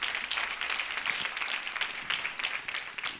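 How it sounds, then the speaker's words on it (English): An audience at an awards ceremony claps in a steady, dense round of applause lasting a few seconds, with no voices heard over it. "a round of applause."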